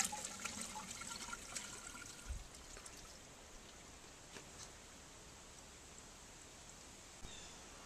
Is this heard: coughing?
no